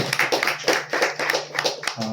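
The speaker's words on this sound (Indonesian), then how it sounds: "Tepuk tangannya untuk tiga pemateri kita." A small audience at a book launch and literature discussion claps for three speakers, giving a brief, uneven patter of close handclaps.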